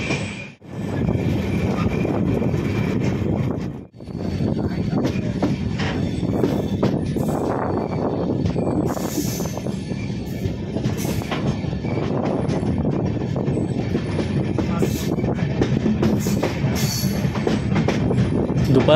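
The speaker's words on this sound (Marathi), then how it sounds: "12:15ला ट्रेन आपली वीर स्टेशनवरून सुटले" The 10115 Bandra–Madgaon Express pulls away from Veer station, heard from on board as a loud, continuous rumble of wheels on rails with clattering and faint squeals throughout.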